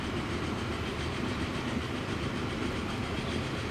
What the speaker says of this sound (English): Here comes the other train. They're coming back from the grain station with the full load.